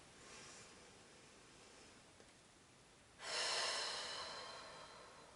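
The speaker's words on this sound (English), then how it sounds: "Take a few deep and centering breaths." Slow deep breathing during a meditation, a faint soft exhale early on, then a louder, closer breath drawn in near the end, in an otherwise quiet room.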